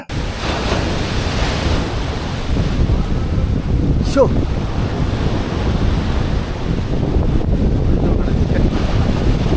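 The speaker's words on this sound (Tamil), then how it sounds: "தடுப்பு சுவரில் பட்டு அலை எப்படி மேலே வர வருதுன்னு பாருங்க" Loud, continuous sea surf surges and crashes against a seawall at Kurumpanai beach, mixed with heavy wind buffeting the microphone and a brief distant whistle-like tone partway through.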